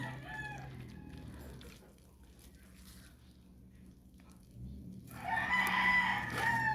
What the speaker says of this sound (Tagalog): Mga manok ko guys